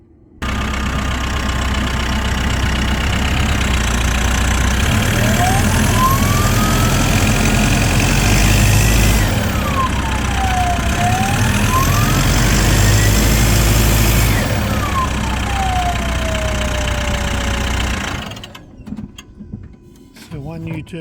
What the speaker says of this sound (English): Let's have a listen to this turbo.